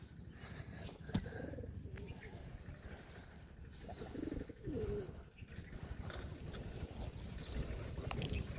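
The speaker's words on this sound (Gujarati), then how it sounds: "કબૂતરા છે અહીંયા." Pigeons on a rooftop coo softly in short rounded calls, a few distinct bursts over a rumbling, breezy outdoor background, without speech.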